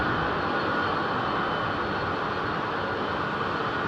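Old aircraft engines at London Heathrow make a loud, continuous broadband roar that stays steady and close for the whole stretch, with no voices.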